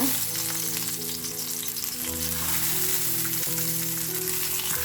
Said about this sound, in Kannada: ಫ್ಲೇಮನ್ನು ಲೋ ಅಲ್ಲಿ ಇಟ್ಕೊಂಡು ನಾವು ಕಟ್ ಮಾಡ್ಕೊಂಡಿರುವಂಥ ಟೊಮೆಟೊನ ಇದ್ರ ಒಳಗಡೆ ಇಟ್ಕೊಳ್ಳೋಣ